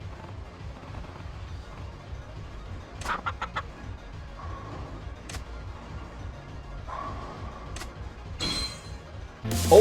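A chicken in a Yakuza video game gives short, sharp clucks in small bursts, spaced apart over a quiet low background.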